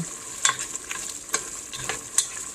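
Bicol Express stirred in a hot pan: a utensil scrapes and knocks against the pan in a few sharp strokes over a soft, steady sizzle, close by with no talking.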